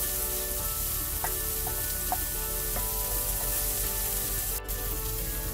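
Burger patties fry in a pan with a continuous, close, crackling sizzle that holds steady throughout, dotted with faint clicks and spatters and no talking.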